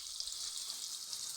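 Onion and chilies frying in a pan, giving a soft, steady sizzle with faint crackles, heard alone at low level.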